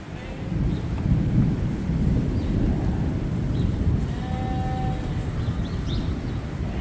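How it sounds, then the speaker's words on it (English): A thunderstorm rolls over a sheep farm, heard as a steady, broad, low rumble with wind-like roar that holds at an even loudness the whole time. "You're having a thunderstorm when you get weaned."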